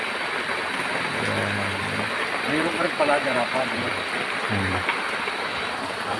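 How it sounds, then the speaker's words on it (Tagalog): Heavy rain pours steadily and loudly outdoors, a dense broadband wash running through the whole stretch while someone speaks over it in several short phrases. "medyo malakas na talaga yung ulan"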